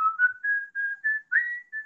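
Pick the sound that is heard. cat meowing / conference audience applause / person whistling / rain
person whistling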